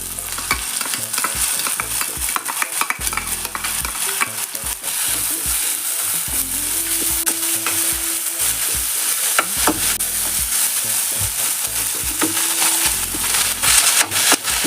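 Ginger garlic paste sizzles with browned onions in a pan, a continuous loud fry under constant stirring, with frequent scraping spoon strokes and knocks against the pan throughout.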